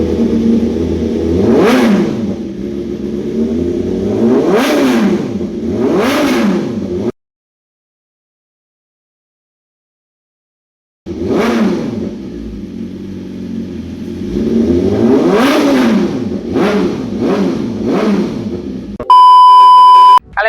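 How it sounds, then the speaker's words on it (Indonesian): A BMW S1000RR 1000 cc four-cylinder superbike fitted with an Aero Pro Race titanium full-system race exhaust is revved in sharp, loud bursts. Several quick blips rise and fall, followed by a pause of silence, then more rapid revs and a short electronic beep. "knalpotnya udah nempel, Aero Pro Race Titanium Full System."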